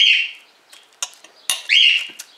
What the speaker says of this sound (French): c'est mon oiseau qui se décide à chanter parce que je fais la vidéo